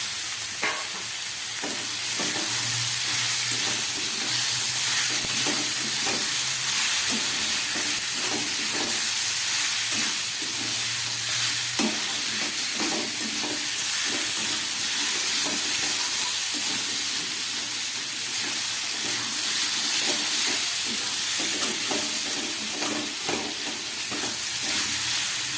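Boiled chickpeas, potatoes and capsicum fry in a pan of cooked-down spice paste for Kabuli chana, giving a steady sizzle with scattered stirring scrapes throughout, close and alone with no talk.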